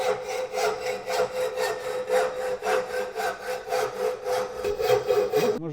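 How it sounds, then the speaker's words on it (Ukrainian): A hand saw cuts through an aluminium pipe in quick, even back-and-forth strokes, close and steady, ending abruptly. "Це труба вона алюмінієва і от так от найбезпечніше розрізати"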